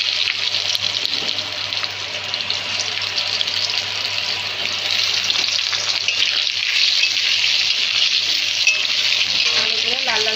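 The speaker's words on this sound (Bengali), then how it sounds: "এবার আমি ওই তেলে আলুগুলো ভেজে নেব।" Potatoes frying in oil for a Bengali fish curry, a loud, steady hissing sizzle close up with faint stirring, no one speaking.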